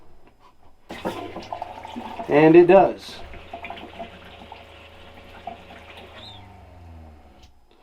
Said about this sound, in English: And we've got the freshwater pump on. So this fill should fill with water.